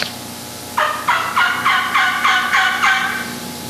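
A turkey call imitates an old fall gobbler with a series of about eight slow, deep, coarse, throaty yelps, evenly spaced and close up.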